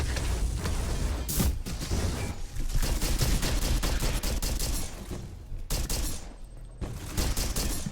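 Rapid, loud bursts of shotgun fire and combat noise from a sci-fi video game of colonial marines fighting aliens, dense and nearly continuous with brief gaps.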